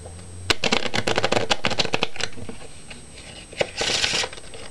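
A deck of playing cards is shuffled by hand, giving a rapid riffling flutter of snapping card edges, close and crisp, followed by a softer bridge and a second brief burst of riffling.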